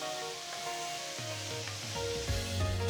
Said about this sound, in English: Keeping the flame on a high, just stir fry all these vegetables.